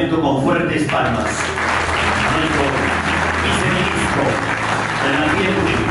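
An audience claps steadily and densely at a civic medal presentation held by the Provincial Municipality of Carhuaz, Peru, a continuous roar of applause filling the hall from start to finish.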